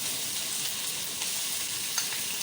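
Chopped garlic, ginger and green chilli fry in oil in a pan, giving a continuous bright sizzle with occasional soft crackles and stirring scrapes, close and unaccompanied by speech.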